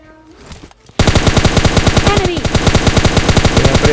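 Shooter game gunfire with an AWM and Kar98 around: after a quiet lead-in, loud rapid automatic bursts erupt and keep going in a fast, even rhythm, close and dominant.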